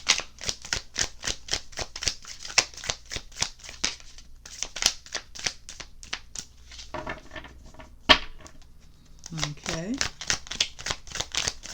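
Antique Anatomy Tarot cards shuffled by hand in steady rapid riffles and taps for most of the stretch, with a short pause, while a voice speaks briefly over them.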